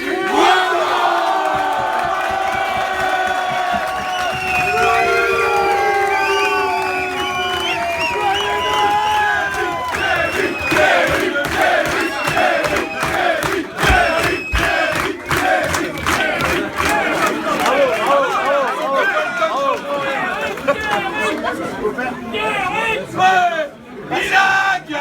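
Crowd at a Stade Nantais event cheering, shouting and applauding loudly for a nominee, a dense continuous roar of many voices with whoops throughout, building near the end.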